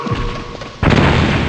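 A stun grenade going off in Metal Gear Solid, a sudden loud boom partway through that leaves a dense, sustained roar over low background game noise.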